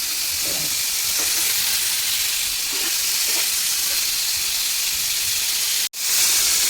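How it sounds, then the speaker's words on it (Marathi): Paneer frying in a pan, a steady broad sizzle and hiss of hot oil with faint clinks, continuing evenly before a brief cut. "हे बघा इथे पनीर फ्राय होतो आहे"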